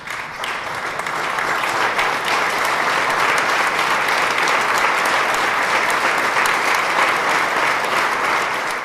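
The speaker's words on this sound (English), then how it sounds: "get up and give her a round of applause" Benefit event crowd rising to give the organizer a round of applause, with loud, sustained clapping that builds within the first second and then holds steady and full.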